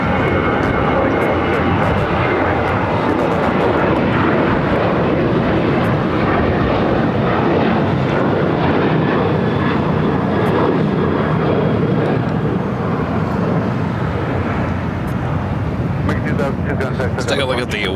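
A jet airliner taking off at Los Angeles LAX, with a loud, sustained engine roar that holds steady for the whole stretch while a radio voice talks underneath.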